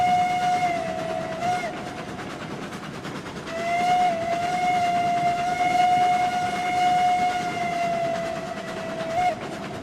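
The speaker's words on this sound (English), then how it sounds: "That whistle really does sound good in there." Steam locomotive whistle sounding in a valley in the RailRoads Online game, a long steady tone blown twice with a short break, loud over a constant rumbling background.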